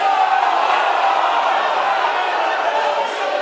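Rugby league crowd at Odsal, home of the Bradford Bulls, roaring and shouting together for a penalty, a steady dense wall of voices holding loud for the whole stretch.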